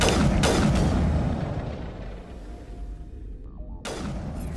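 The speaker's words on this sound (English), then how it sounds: "Detonation." Grenade detonations in Mass Effect Legendary Edition: heavy booms with a rolling rumble that decays over a couple of seconds, followed by another sharp blast, loud and close with no speech.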